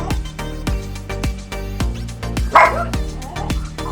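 Daisy, a pet dog, barks repeatedly in a steady rhythm of sharp, fairly close woofs, with a brief yelp partway through.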